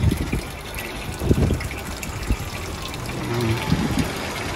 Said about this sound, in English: He's having a waterfall over there.